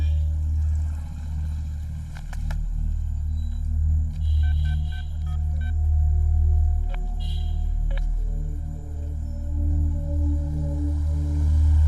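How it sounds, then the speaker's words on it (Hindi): A string of short electronic beeping tones, like phone dialing, sounds over a steady low hum, with a few brief clicks. "चलो उसे फोन करते हैं।"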